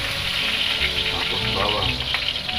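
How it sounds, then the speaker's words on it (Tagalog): Onions sizzling in hot oil in a pan while a Filipino dish of liver and gizzards is cooked, a steady close frying hiss with faint crackles throughout. "Tapos, lagay natin ang sibuyas."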